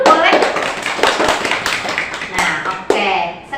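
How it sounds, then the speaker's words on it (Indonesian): A group of people in a counseling session claps hands together in a quick, lively burst of taps, close and fairly loud, with voices mixed in. "Tepuk tangan dulu boleh"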